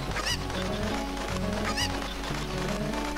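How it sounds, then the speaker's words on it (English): Chicken squawking in the video game Ocarina of Time, two sharp bursts of clucking over a busy game music background, fairly loud and close. "So I'm gonna throw this chicken back and see where it actually is."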